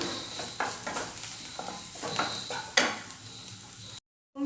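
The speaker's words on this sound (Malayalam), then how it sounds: "പൊടികളൊക്കെ പച്ചമണം മാറി ഇപ്പോൾ രണ്ട് മൂന്ന് മിനിറ്റ് ഒന്ന് വഴറ്റിയെടുത്തു" Spice powders are sautéed in a pan while cooking egg fry, with quiet sizzling and several scraping stirs of a utensil against the pan, followed by a brief silence.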